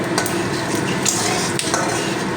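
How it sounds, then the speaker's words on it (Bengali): Panch phoron spices are stirred in hot oil in a pan, giving a steady sizzle with a few sharp clinks and scrapes of a utensil against metal, close and alone without talk. "পাঁচফোড়নটা দশ থেকে পনেরো সেকেন্ড তেলের মধ্যে একটু নাড়াচাড়া করে নেব"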